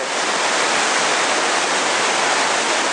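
A river rushes past far below a cliff-side walkway inside a cave in the Kunming area, giving a steady, loud broadband roar of flowing water with no break and no voices.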